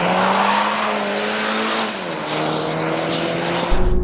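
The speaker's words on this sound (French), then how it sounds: "C'est pas le cas sur un petit 4 cylindres, mais ils ont quand même bien travaillé le son" The 2.0-litre four-cylinder engine of a Toyota Supra hums loudly and steadily from inside while driving. The tone sags briefly midway as the car shifts, then settles again, with a faint thump near the end and no voices.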